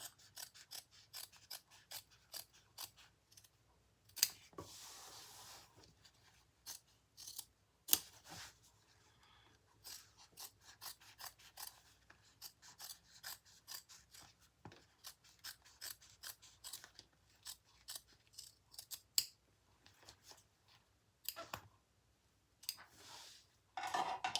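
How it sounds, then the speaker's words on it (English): Repeated crisp snips of duckbill scissors, close and fairly quiet, in irregular bursts with brief pauses, alongside small handling rustles. "I always forget to use these ducktail scissors."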